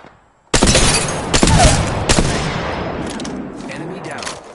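Sudden loud automatic gunfire in the Apex Legends battle royale game, a dense burst of rapid shots with sharp cracks that then fades into lingering echoing rattle.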